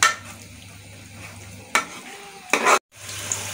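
Spinach and tomato curry (palak) stirred in a pan, village-style cooking: a low sizzle of frying runs under scraping spoon strokes, with a couple of louder stirring scrapes and a brief dropout near the end, no talk.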